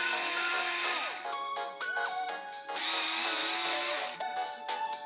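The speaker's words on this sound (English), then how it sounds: "you grab the wooden dowel, and you put in the sharpener and sharpen it." Pencil sharpener grinding a wooden dowel in short bursts, with whirring motor pitches that rise and fall and brief pauses between passes, close and fairly loud.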